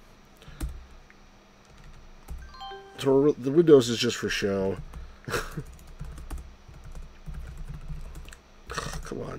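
Rapid clicking keystrokes on a computer keyboard in a 1994-era PC setup come in scattered bursts, mixed with someone talking and a short musical chime partway through.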